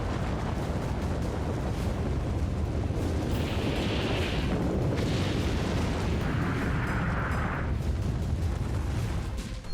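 An atom bomb explosion roars as a sustained, dense, deep rumble that fills the whole stretch without pause, with hissing surges rising above it twice.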